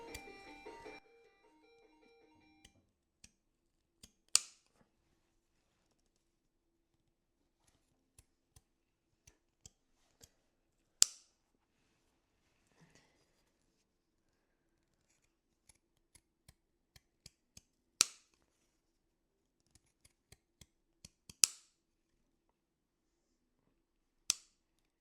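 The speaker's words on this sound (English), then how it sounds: "it's a scallop just with pink embroidery scissors instead" Pinking embroidery scissors snip through fabric while cutting scallops, with sparse, sharp close-up crunching cuts spaced several seconds apart and small clicks between them in a quiet room.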